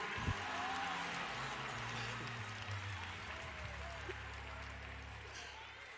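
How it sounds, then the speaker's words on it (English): A church congregation claps hands together, a faint, diffuse patter of many hands heard from a distance over a low hum of room noise and voices. "Can you just clap your hands"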